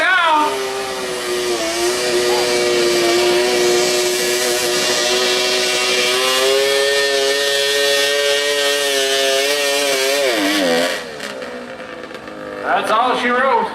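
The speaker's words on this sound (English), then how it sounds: "It's a good pulling tractor." A modified Kubota lawn tractor revs hard and steadily for about ten seconds while dragging a heavy pulling sled, its high, buzzing engine note wavering slightly, then dropping off abruptly before a brief final rev.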